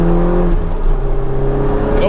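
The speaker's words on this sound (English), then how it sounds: "it revs. It loves to rev." A 306 bhp Honda Civic Type R in R mode has its engine held at steady high revs, a loud continuous drone whose pitch dips slightly and then climbs, with someone talking over it.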